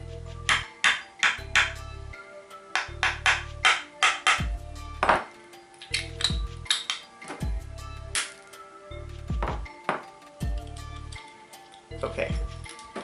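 Gentle repeated taps of a small screwdriver against a glass light bulb, producing sharp ringing clicks in an irregular rhythm, close and fairly quiet.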